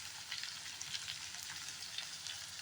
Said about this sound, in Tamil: இப்போ நம்ம வெட்டி வச்ச தக்காளியை சேர்த்துக்கலாம்